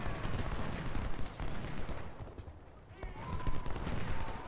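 Skirmisher musket fire in Ultimate General: Civil War, a continuous crackle of scattered shots and distant rumbling volleys rolling under a faint voice.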